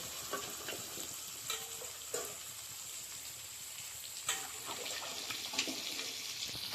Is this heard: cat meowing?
no